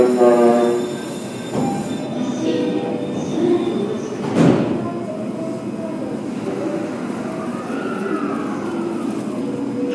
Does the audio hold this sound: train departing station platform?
yes